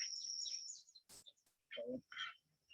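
A hand-raised jay gives a run of sharp chirping calls, close and clear, broken by short pauses and a few quick rustling bursts.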